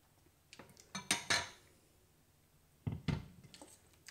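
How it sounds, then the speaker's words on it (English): Pasta and green beans being stirred through pesto sauce in a pan, with soft scraping and clinking of a utensil in two short bursts separated by a pause. "we'll just give it all a stir through. Make sure that everything's coated in that pesto sauce"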